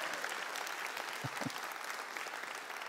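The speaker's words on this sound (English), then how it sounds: "Can we have a round of applause for the three people I just abused?" Church congregation applauding during a sermon, a dense, even wash of clapping heard at moderate distance, with a couple of low thumps partway through.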